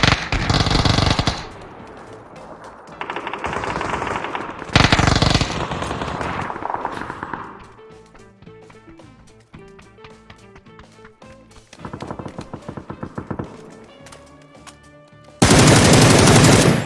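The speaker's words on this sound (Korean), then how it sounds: "총소리" Bursts of rapid automatic gunfire from a video game, several loud volleys separated by quieter stretches of game music and effects.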